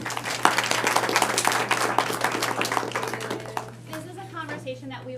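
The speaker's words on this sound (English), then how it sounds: "Let's give them a round of applause." Round of applause at a team meeting, moderate clapping from a modest group that fades after a few seconds, then a voice talks over a faint steady hum.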